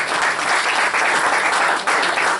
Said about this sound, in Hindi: मैं चाहूंगा हम तालियों से उनका अभिनंदन करें।